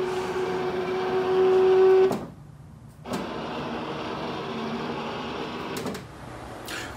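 Da-Lite electric projection screen motor: a steady mechanical whir that runs a couple of seconds and cuts off, then starts again with a softer hum, stops, and resumes faintly, heard close with no voices.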